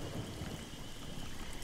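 Rain pours steadily with deep thunder rumbling underneath during a storm in the game How To Survive, an even, moderately quiet wash of weather noise without speech.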